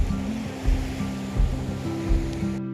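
Ocean waves wash onto the beach at St. Mary's Island near Udupi, Karnataka, at sunset, with a steady roar of surf and rhythmic surges every second or so.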